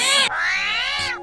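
A single close cat meow, a drawn-out, wavering cry with a sharp opening that slides into a long tonal whine.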